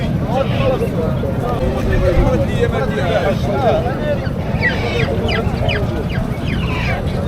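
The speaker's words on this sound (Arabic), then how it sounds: "ها هو البط مع البط مع الوز" Ducks, geese and chickens at a busy outdoor Moroccan weekly livestock market, with clucks and honks rising over a constant loud crowd din and nearby talk.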